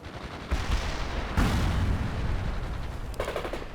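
A grenade launch and blast in World in Conflict, a sharp burst followed by a heavy rumbling explosion, with crackling gunfire bursts after it, loud and close.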